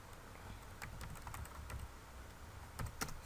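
Keys on a computer keyboard clatter quietly as an article title is typed, in a quick, uneven run of close, soft taps.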